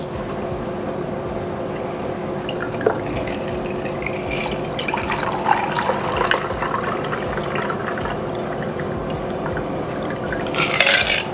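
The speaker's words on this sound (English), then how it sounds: "so I'm just gonna pour it in the glass" Coffee eggnog cold brew is poured into a glass in a continuous splashing, gurgling stream, close and fairly loud, with no talking.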